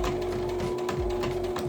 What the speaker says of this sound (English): Place your needle down into the fabric. Sew forward a couple stitches.